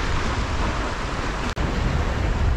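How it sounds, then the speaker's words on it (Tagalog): Strong surf on a rocky shore where anglers fish from the rocks, a steady loud broadband wash of breaking waves that is continuous and close, with a single brief dropout partway through. "Medyo maingat lang talaga kami kasi malakas yung alon."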